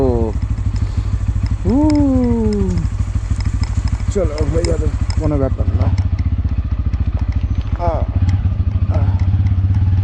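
A motorcycle engine rumbles steadily as it rolls downhill on a Sikkim mountain road, with a person talking over the running engine throughout.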